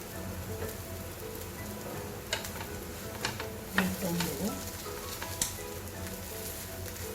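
Food sizzling in a little oil on a tava griddle, a soft steady crackle with occasional scrapes and taps, fairly quiet and close.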